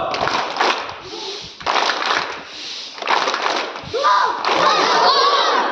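A group of people performs a rocket clap cheer, with a loud, close crowd sound of shouts and clapping rising in four surges over a few seconds.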